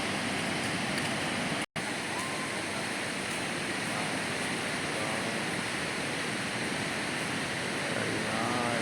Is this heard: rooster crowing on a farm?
no